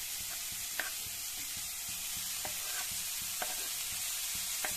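Sliced bitter gourd fried in a pan with chopped onions and curry leaves, a steady sizzle overlaid by repeated scraping stirs at an irregular rhythm, close and moderately loud.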